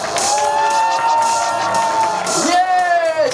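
A crowd at a department-store autograph event cheers and screams in welcome as a singer takes the stage, loud high shrieks rising and falling, with a voice over a microphone cutting through.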